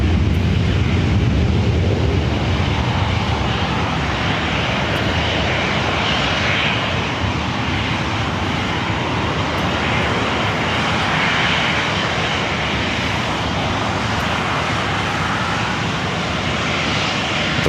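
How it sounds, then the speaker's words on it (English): Airbus A321 jet airliner at Los Angeles International Airport, its engines giving a steady, loud broadband roar that holds evenly throughout with some wind noise over the microphone. "It's an A321."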